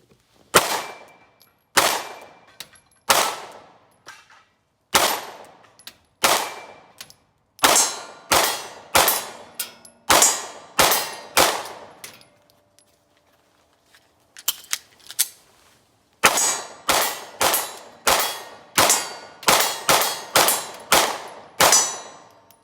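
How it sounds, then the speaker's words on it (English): SIG P365 pistol fired at steel targets 20 yards away, a long run of loud, sharp shots in uneven strings with pauses between groups, a brief quiet gap midway for a magazine change, no voices. "We're just gonna do some shooting. I'll do a magazine change, and we'll see how it does at this distance."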